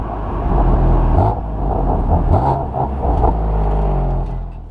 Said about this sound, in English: Downshifts are also accompanied by a pronounced throttle blip.